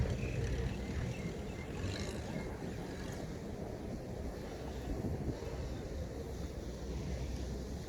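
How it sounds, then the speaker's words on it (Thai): Strong wind buffets the microphone near a tugboat on the water, a constant loud rushing roar with a low rumble and faint splashing, continuous throughout with no voices. "วันนี้ลมแรง ลม ลมพัดแรง"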